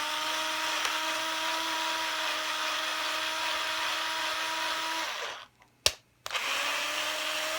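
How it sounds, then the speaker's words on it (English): A power drill bores screw holes for replacement tuners in the headstock of a blue Fender Squier Stratocaster. It gives a loud, steady whine that cuts off briefly, then a sharp click before the drill starts up again. "How deep am I drilling?"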